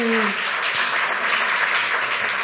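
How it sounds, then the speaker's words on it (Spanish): Audience applause for a conference speaker at a Fundación Caja Navarra event, a dense, steady wash of many hands clapping close and loud throughout, with a brief voice at the very start. "Un aplauso para Javier"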